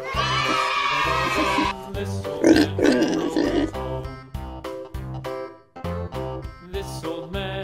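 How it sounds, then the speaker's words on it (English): A toy pig lets out a grunting, oinking sound effect over a playful musical tune, a few rough snorts standing out in the middle. "Pink pig."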